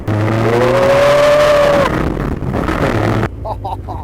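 Westfield sports car driving, its engine revving up and rising in pitch, then easing off as it passes and recedes, with a fainter engine note returning near the end.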